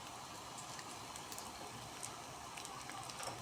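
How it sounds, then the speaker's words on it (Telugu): Food frying in a pan gives a faint, steady crackling sizzle that runs without a break, with no talk over it. "చూడండి, చాలా బాగుంటుంది ఇలాగా ఫ్రై చేసుకుంటే."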